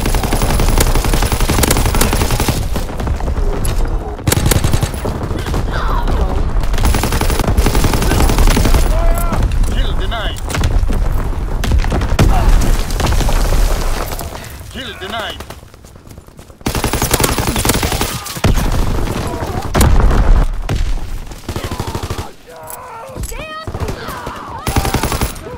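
Call of Duty WWII battlefield combat with continuous machine-gun and rifle fire, bursts and heavy explosions from incoming artillery, loud and dense throughout, with game radio voices calling out over it.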